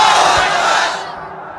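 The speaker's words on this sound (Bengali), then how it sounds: "সবাই একটা লাস্ট তাকবীর দেন, লিল্লাহি তাকবীর।" A large crowd shouting a takbir chant at a religious gathering in Savar, Dhaka: one loud, massed roar of many voices that swells and then fades within a second or two.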